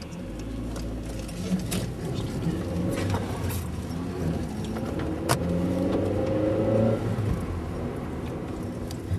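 A car drives into the town of Suwałki, Poland, with steady engine hum and road rumble from inside. The engine revs up a little partway through, and faint birdsong is heard in the background.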